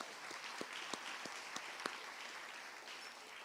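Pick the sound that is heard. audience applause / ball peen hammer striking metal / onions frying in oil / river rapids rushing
audience applause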